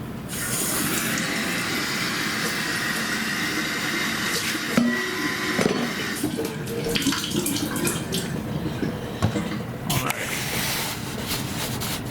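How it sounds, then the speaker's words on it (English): Cold water runs from a kitchen tap as something is rinsed beneath it, giving a continuous splashing hiss with a few sharper clatters and bumps partway through, fairly close. "We'll rinse this in cold water."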